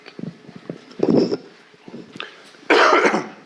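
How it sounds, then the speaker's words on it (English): Several close, rough coughs come in bursts, with throat-clearing between them and a longer, harsher cough at the end. "I am a little bit coughing"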